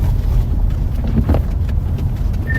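A gust of wind blows toward the lake during a heavy lake-effect snowstorm in New York, a loud, steady roaring rush buffeting the microphone.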